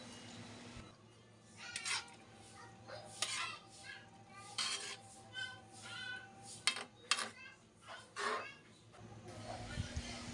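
Kamansi simmers in coconut milk while a spoon stirs and scrapes the metal pot, making irregular clinks and knocks with faint background chirps.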